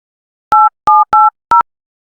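Telephone keypad tones from a Sakura School Simulator drama: four short, loud dual-tone beeps dialed in quick succession, then silence, with no talk.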